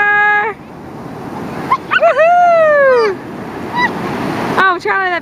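Ocean waves wash in at Roads End beach in Lincoln City, a broad surf rush swelling and fading beneath excited voices, with a dog yipping and whimpering nearby.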